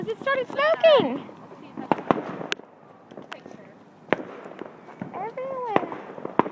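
Fireworks and firecrackers pop and crack in sharp bursts throughout, some loud and close, others fainter, while people talk and shout over them with a lot of chatter.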